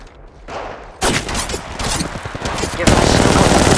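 Rapid automatic gunfire fills a mobile Apex Legends firefight, dense bursts of shots running continuously and growing louder toward the end, with a voice briefly heard under the shooting.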